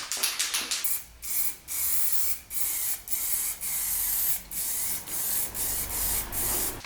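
Aerosol spray paint cans coating a marine diesel engine during a home rebuild, heard as a run of close, loud hissing bursts separated by short pauses, about ten blasts in a row.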